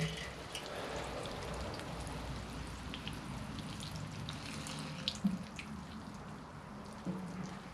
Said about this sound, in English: And we'll water that fully.